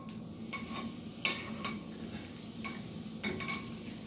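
Butter sizzles softly in a pan while a quesadilla cooks, with a steady low frying hiss and a few light scraping and clinking stirs scattered through it. The sound is fairly quiet and close.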